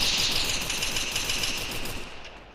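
Rapid automatic gunfire from the Free Fire mobile battle game, a loud continuous burst of machine-gun shots that runs steadily throughout and cuts off at the end, with no talking over it.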